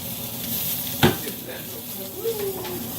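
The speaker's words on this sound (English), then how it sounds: "sometimes to expedite the cooking of the Brussels sprouts, I'll throw the lid on top of it" Brussels sprouts cooking in a pot on the stove with the lid set on top, a steady soft sizzle running throughout, with one sharp clatter near the start and a faint tonal whine later.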